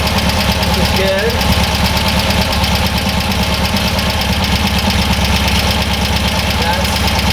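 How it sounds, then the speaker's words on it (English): German air-cooled engine with dual carburetors, freshly started and warming up, idles steadily and close by, a constant low rumble with a fast even beat, loud and unbroken throughout with no talk. "All right, so see it's still idling really nice."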